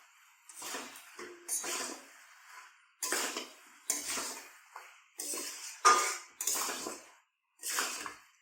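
A spoon stirring sugar into a pot of katla fish-head curry with potatoes and rice, giving short separate bursts of scraping and soft metallic clinks against the pot, with quiet gaps between them.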